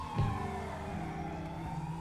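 Police siren wailing in a GTA roleplay chase, a steady sustained tone with vehicle engine noise beneath, close and continuous throughout.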